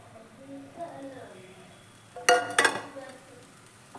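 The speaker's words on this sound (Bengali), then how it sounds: "এবার নারকেলটাও দিয়ে মিশিয়ে নিচ্ছি।" Grated coconut is stirred into melting jaggery in a pan for dudh puli, giving a soft background sizzle and then two short, sharp bursts of spoon scraping and clatter against the pan midway.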